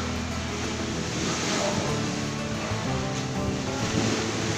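Strong ocean waves crash and surge around a boat at sea, a loud continuous roar of churning water with wind rushing across the microphone and a low engine-like rumble beneath, and no pauses.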